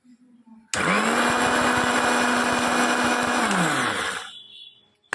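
A kitchen mixer grinder whirs loudly while grinding homemade tea masala powder with dry ginger, starting abruptly after a brief lead-in, holding a steady high-pitched motor drone for about three seconds, then winding down as the motor slows.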